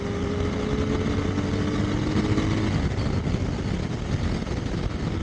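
Fast-ridden motorcycle, a Benelli 600i or Dominar 400 on a Sunday ride, its engine a continuous rushing drone with a rising tone early on before settling into a broad steady roar.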